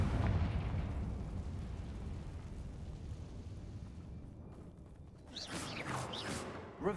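A Confringo fire spell explodes in Hogwarts Legacy with a deep rumbling blast that slowly fades, followed by a few sharp magical whooshes and crackles near the end.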